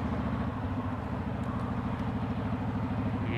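A car drives over a freshly laid tar, sand and gravel road surface in Belleville, Ontario, with a loud, continuous engine drone under a steady rumbling, gritty tire noise from close by.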